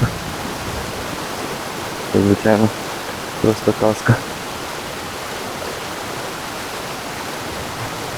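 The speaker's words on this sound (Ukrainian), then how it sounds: "Зігнав мене дощик." Steady, even hiss of thunderstorm rain fills the background while someone talks briefly over it.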